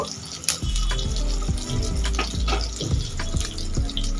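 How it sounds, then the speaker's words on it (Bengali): Fennel seeds frying in hot oil in a pan give a loud, steady sizzle with scattered sharp pops and crackles, heard up close with no voices. "এই তেলের মধ্যে দিয়ে দেবো সামান্য পরিমাণে পানমৌরি, ভেজে নেব।"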